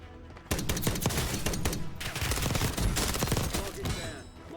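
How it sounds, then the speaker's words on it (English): Dense, loud gunfire in the video game Warzone, a Modern Warfare 2 loadout match, with rapid overlapping shots and bursts running almost continuously and staying close and heavy throughout. "I hear gunshots going off over here"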